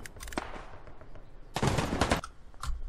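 Air-support strafing run in the Hell Let Loose war game: a dense burst of rapid gunfire lasting about half a second roars in after scattered quieter shots, then trails off into lighter pops.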